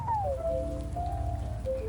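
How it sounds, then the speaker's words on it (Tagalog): Light drizzle falls outdoors, a soft steady patter over a low continuous rumble, with a faint drawn-out tonal whistle running through the short stretch. "medyo umaambon."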